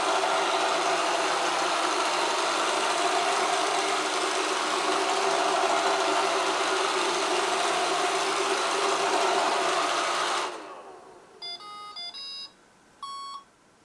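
An iRobot Roomba XE robotic vacuum cleaner runs with a steady whirring hum for about ten seconds, then powers down, followed by a few short electronic beeps.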